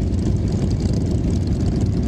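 A motorcycle engine idles in first gear at a slow pace during a Toys for Tots charity group ride, with a steady, dense low rumble and wind noise, and no talking.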